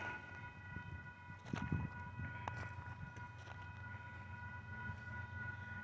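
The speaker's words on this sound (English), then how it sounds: "we have a southbound Jupiter model train coming" A southbound Union Pacific intermodal freight train led by GEVO locomotives UP 8073 and UP 5436 rumbles steadily in the distance with a sustained horn-like tone, low clattering building and easing as it passes.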